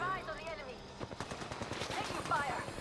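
Rapid bursts of gunfire from the battle royale game Apex Legends, a dense string of sharp shots going off in quick succession with game voice tones and callouts mixed in underneath.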